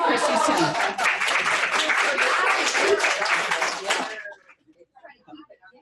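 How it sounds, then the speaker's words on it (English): Dense, lively applause rises from an audience at a state council meeting for a team, with some chuckling mixed in, then cuts off sharply, leaving faint murmurs and quiet talk. "Everybody clap for Christy's team."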